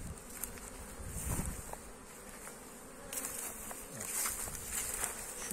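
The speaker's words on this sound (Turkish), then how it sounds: "Bu arılar burada Çam bölgesinde. Bugün 9. günü uçuyor." Honeybees fly around their hives in the pine area on a November afternoon, a continuous close buzzing with individual bees zipping past, fairly quiet overall.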